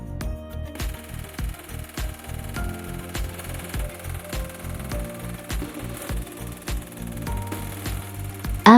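An EMShape Neo body sculpt machine runs after being started, with a rhythmic series of pulsed, buzzing electrical beats and tonal hums that repeat steadily at close range, alone with no voices.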